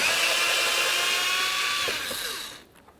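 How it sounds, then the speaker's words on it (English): A power driver with a T20 bit whirs steadily and loudly while removing bumper cover mounting screws on a 2007-12 Dodge Caliber, then winds down and stops near the end. "We're going to remove those with a T20."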